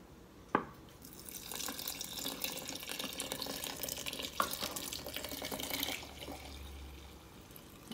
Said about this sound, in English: I'm going to go back to putting more water in here so it can sit a little bit longer.